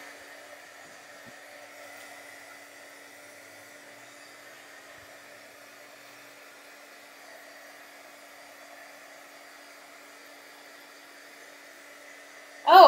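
A hair dryer blows steadily at low to moderate loudness to dry a mixed media art background, a constant whirring drone that stops with a sudden louder noise at the very end, with no talking.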